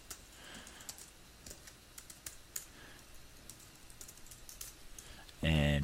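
Irregular bursts of keystrokes on a computer keyboard come from close by as a host name and password are entered, ending with a louder thump or click.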